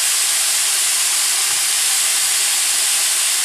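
Onions sizzling with hamburger meat in a pan for a hearty sauce produce a loud, steady, hissing sizzle that holds without a break.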